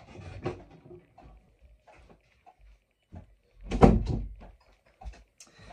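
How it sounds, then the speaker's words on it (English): A door is pulled closed, making a few soft knocks and then a solid thunk as it shuts, with a couple of lighter clicks afterward in an otherwise quiet room. "Can someone pull the door closed?"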